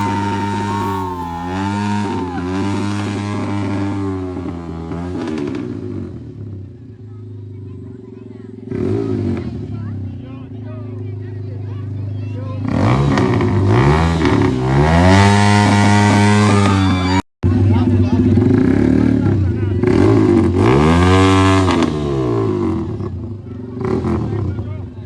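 A heavy motorcycle revs repeatedly for a groom's entry at a combined wedding walima and birthday celebration, its engine rising and falling in loud, rough surges with pauses between, while people talk nearby.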